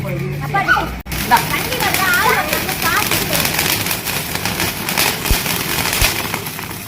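Loud, crackling bursts of firecrackers going off repeatedly during Diwali celebrations amid a noisy crowd, with people talking and shouting in Tamil throughout.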